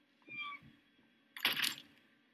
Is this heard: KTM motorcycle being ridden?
no